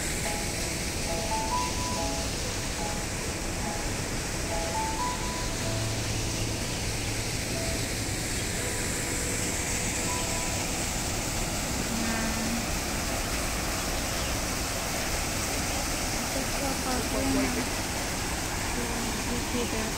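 Water from a small artificial waterfall in a renovated park pours continuously as a steady broadband rush, with occasional faint voices and ambient sounds in the background.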